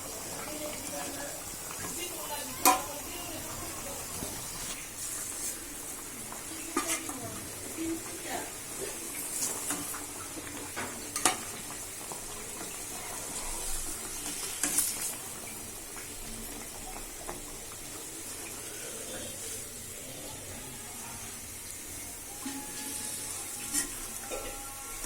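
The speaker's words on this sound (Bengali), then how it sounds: "তরকারি কষাই" Boal fish curry cooks in a pan with a faint, steady sizzle and scattered scraping stir strokes and clinks, soft and close, with occasional brief louder taps.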